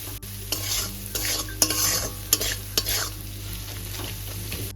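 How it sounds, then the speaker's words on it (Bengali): Spices with chilli powder and turmeric sizzle in a hot pan while a spoon stirs them, a constant frying hiss punctuated by several sharp scraping strokes, close up with no talking. "এবার ভীষণ ভালো করে কষে নেব কষে বলতে জাস্ট মশলাটা একটু মিশিয়ে নেব"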